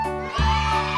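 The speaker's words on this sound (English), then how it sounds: "goat," A single goat bleat, loud and close, with a wavering voiced tone that swells partway through and holds to the end, heard alone without talk.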